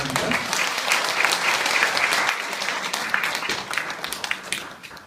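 An audience applauds after a lecture on inheritance and gift tax, steady dense clapping from a roomful of people that holds for several seconds before thinning at the end.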